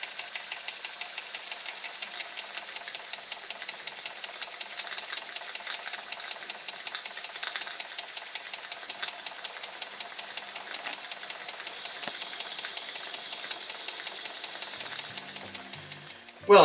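A homemade Stuart S50 model steam engine, machined on a mini lathe, runs on steam with a fast, even mechanical chatter and hiss that stays steady throughout, then a sudden loud clatter at the very end.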